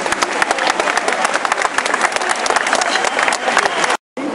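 A large crowd applauds at the inauguration of Montpellier's tramway lines 3 and 4, producing dense, loud, sustained clapping that fills the space before cutting off abruptly near the end.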